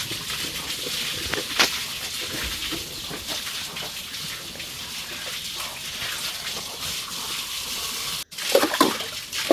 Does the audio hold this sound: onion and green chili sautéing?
no